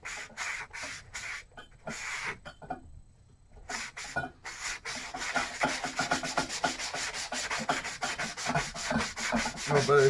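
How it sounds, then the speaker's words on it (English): Rubbing over the sole of a Loake shoe during cobbler repair, a dry abrasive scuffing in quick repeated strokes that starts in short bursts, pauses, then runs steadier and louder close up, with no talk. "Rub over the sole."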